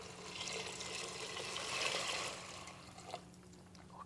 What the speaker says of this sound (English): I have 6 cups of water right over